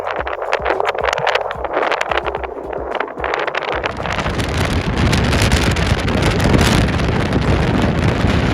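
Wind buffets the microphone on a hike along the Te Araroa trail between Takanini and Mangatawhiri, a loud, rough, continuous roar that thickens and grows steadier partway through, with no voices.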